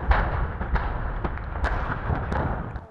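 Explosions at a burning transformer oil plant: a dense, continuous rumble punctuated by repeated sharp cracks and booms, heard from a distance with no voices.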